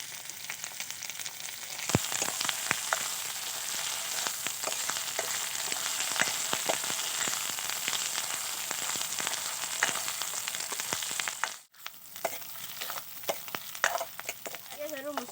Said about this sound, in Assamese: পিঁয়াজ আৰু মছলাখিনি ভালদৰে ভজা হ'ল